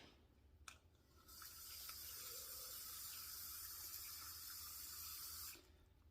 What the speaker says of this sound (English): I'm going to get the water in there first.